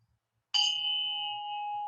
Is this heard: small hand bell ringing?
yes